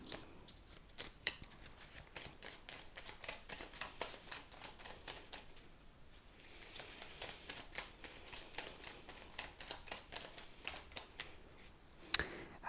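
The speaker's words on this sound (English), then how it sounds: "So let me pull a card for you from this deck, group 2." A deck of tarot cards is shuffled in a long run of quick, crisp riffling snaps, then briefly pauses before more shuffling and a card being pulled, close and fairly quiet.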